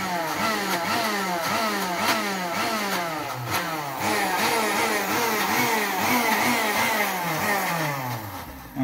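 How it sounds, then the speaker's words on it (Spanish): A motorcycle engine revs steadily and continuously up close, its mid-pitched throb rising and falling in repeated pulses throughout. "Que está acelerando la moto."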